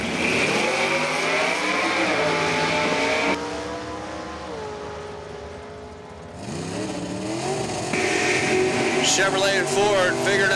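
A Chevrolet Camaro and a Ford Mustang race at a drag strip, engines roaring loud and near with rising revs and gear shifts, easing briefly mid-clip before roaring again, under an announcer's commentary.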